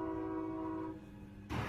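A train horn sounds as a sustained tonal blast for about one second, followed by rumbling rail noise as the train passes at moderate distance.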